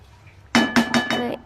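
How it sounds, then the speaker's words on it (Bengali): A metal spoon clanks against a pot four times in quick rhythm, close and fairly loud, while a prawn pulao mixture is stirred and fried. "এখানে আমি নাড়াচাড়া করে নিচ্ছি খুব ভালো করে কষে নিচ্ছি"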